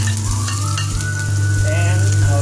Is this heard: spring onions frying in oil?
yes